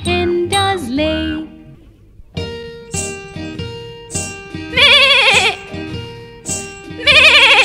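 Sheep bleats, sung and imitated, ring out over a bright nursery rhyme backing of melody and jingling instruments, with wavering bleating phrases recurring loudly near the end.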